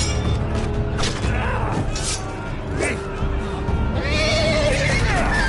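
A horse whinnies loudly in a Telltale Game of Thrones scene, several shrill rising neighs over a dense game soundtrack with rumbling impacts and clattering, plus someone talking.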